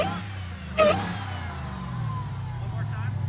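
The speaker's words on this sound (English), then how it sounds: "Thanks for doing those little revs for me." A Jeep Gladiator Mojave with a Demon engine conversion revs briefly and then idles with a low rumble; voices can be heard over it.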